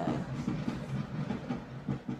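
A train rolls by at a moderate distance, with rhythmic clickety-clack beats from wheels crossing rail joints repeating over a low rumble, fairly faint overall.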